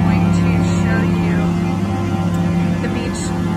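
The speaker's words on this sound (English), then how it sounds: "they are steam cleaning the couches" A steam cleaning machine works on couches inside a house, giving a loud, steady droning hum with a constant hiss that holds evenly throughout.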